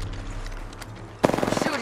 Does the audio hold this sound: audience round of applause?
no